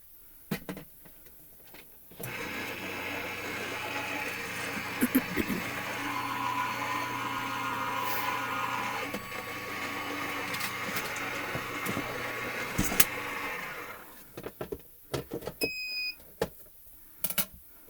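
A Gemini FoilPress machine runs paper through with a steady mechanical whir and hum for about twelve seconds, then stops. Clicks, handling noises and a brief beep follow.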